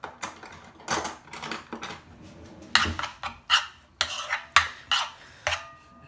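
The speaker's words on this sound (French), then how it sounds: "On casse un œuf dessus et on mélange tranquille." Egg stirred into kebab filling in an off-heat frying pan, with a spoon or fork clinking and scraping against the pan in irregular bursts, close and fairly loud with no talking.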